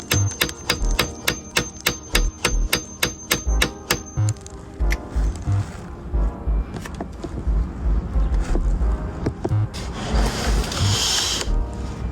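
Rapid metallic hammer taps ring out in a fast regular series as a pin is driven into a Honda Civic EK shift linkage, then continue more irregularly with scattered knocks and rattles.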